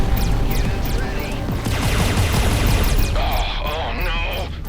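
Spaceship cannons in Everspace 2 firing a rapid stream of sharp shots over a loud, dense rumble of space combat, with a voice briefly heard beneath.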